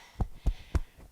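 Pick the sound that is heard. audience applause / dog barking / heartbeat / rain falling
heartbeat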